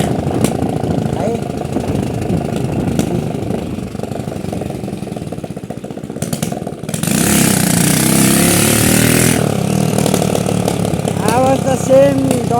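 A Hero Honda motorcycle engine runs with a rough, dirt-bike-like growl, idling unevenly before surging into a loud, sustained rev near the end, while someone talks over it.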